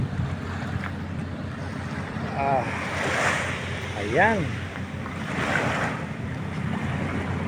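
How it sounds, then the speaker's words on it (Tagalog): Sea waves washing along the shore in a steady broad rush with wind noise on the microphone, while someone speaks briefly over it and faint calls drift in from nearby. "Dito tayo sa gilid ng dagat"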